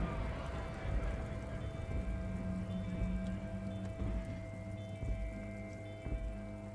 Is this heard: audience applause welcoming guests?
no